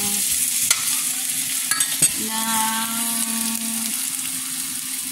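Bean sprouts sauté in a hot pan, sizzling steadily close by while a utensil scrapes and stirs with a few sharp clicks against the metal.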